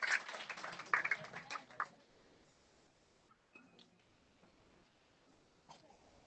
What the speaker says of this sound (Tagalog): Isang malakas na palakpak para sa ating Diyos